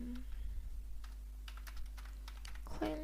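Fingers type on a computer keyboard in a quick, close series of light clicks over a low steady hum, and a brief voice sound comes at the end.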